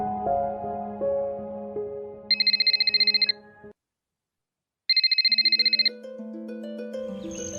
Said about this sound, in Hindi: ये हमारा फोन भी नहीं उठा रही है।